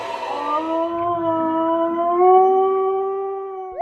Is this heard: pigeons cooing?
no